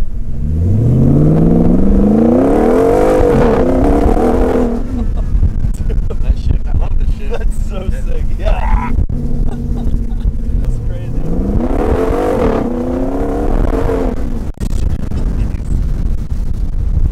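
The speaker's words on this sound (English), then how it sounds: "that engine's so nasty" A Hemi-swapped Jeep on 35-inch tyres with a rear locker revs hard and drives off twice, its loud V8 roar climbing and falling in two bursts with a lower idle between, under wind buffeting as people talk nearby.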